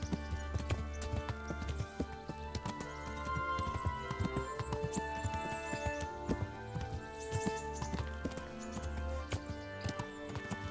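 Horse hooves clip-clop steadily in Kingdom Come: Deliverance, a continuous run of hoofbeats mixed with busy game music and ambient noise.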